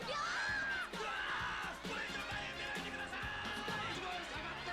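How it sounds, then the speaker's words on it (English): Rowdy anime crowd yelling and cheering in a City Hunter episode, a dense continuous roar of many voices with shouted bursts, steady and loud throughout. "The crowd's getting rowdy."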